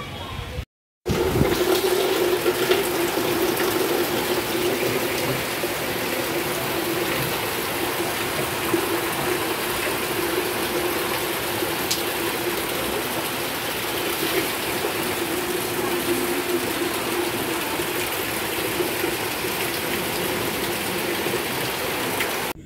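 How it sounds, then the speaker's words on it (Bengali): Heavy rain pours steadily near a house with potted flower plants, a dense, continuous hiss that stays even and loud for the whole stretch with no voices. "বৃষ্টি এসে গেল জোরে।"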